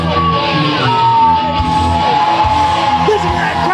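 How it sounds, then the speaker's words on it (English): NWA Southern All Star Wrestling crowd at a Christmas show in Millersville, a loud continuous roar of yelling, whooping and cheering from a packed indoor audience, with shouts rising out of the din. "Listen to that crowd, Jason James."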